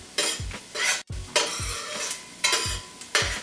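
Onions sizzle in butter in a pot while a spoon stirs them in repeated scraping strokes, roughly four sweeps at an even pace, close and fairly loud with steady frying hiss between them.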